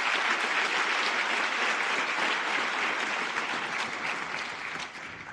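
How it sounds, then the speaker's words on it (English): An audience at a nursing pinning ceremony for college graduates applauds steadily, a dense wash of clapping that holds strong for several seconds and then begins to fade near the end. "Please join me in applauding their commitment and excellence."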